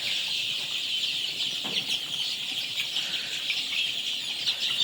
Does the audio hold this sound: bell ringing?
no